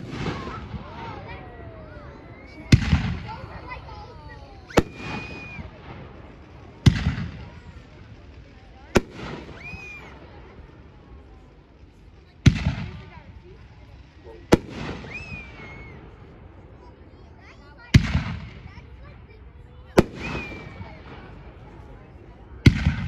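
A Winda Mother of All Bombs firework at an American fireworks demo day, set off in a series of about nine loud, sharp booms spaced a few seconds apart, each trailing into a long echoing rumble, with voices and whistling shells between blasts.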